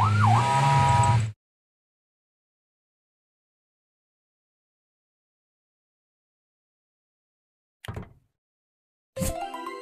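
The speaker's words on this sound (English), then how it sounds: "Police car." A police car siren from a children's vehicle-learning game gives one brief rising and falling wail lasting just over a second, then goes silent before two short, faint game sounds.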